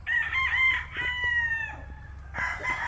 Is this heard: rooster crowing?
yes